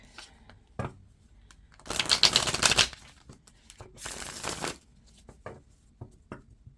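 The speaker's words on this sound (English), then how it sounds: "get some shuffles in here." Two bursts of tarot cards being riffle-shuffled, crisp and close, separated and followed by scattered soft taps and clicks of cards handled on a table.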